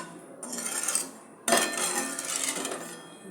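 A spoon scrapes and clinks against a pan as sugar syrup for Mysore pak is stirred, sounding as two brief bursts of metallic scraping that are fairly close, with no talk over them.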